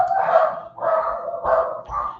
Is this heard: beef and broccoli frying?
no